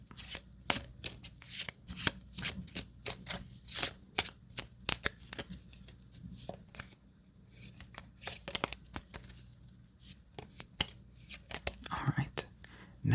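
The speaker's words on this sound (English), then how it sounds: "take the room cards and shuffle them up" Mini Rogue room cards being shuffled by hand, a steady run of quick riffling and snapping bursts, close and crisp, with soft handling rustles between them and no talking.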